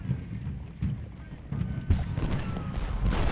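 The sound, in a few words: horses galloping in video game Ultimate General Gettysburg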